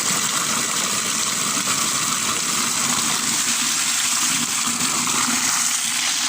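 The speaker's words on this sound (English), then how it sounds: "So we're going to the rainwater tap." Rainwater pours steadily from a tap into a container for a compost tea blend, a continuous close gushing rush of water that holds unbroken with no talk over it.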